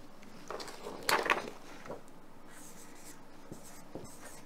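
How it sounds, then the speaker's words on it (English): A pen writes on paper close up, with faint scratching strokes and a few louder scrapes early on, then soft intermittent taps and scribbles. "Okay, so I'll write it down."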